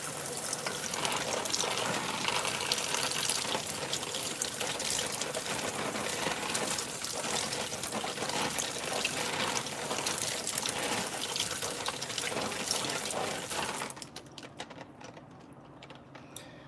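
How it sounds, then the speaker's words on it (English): Tap water gushes steadily into a sink as a fish is rinsed, a close, constant splashing rush that stops after about fourteen seconds, leaving quieter handling sounds. "So I'm gonna just rinse this off with some vinegar first, and then I'm gonna take wash it off"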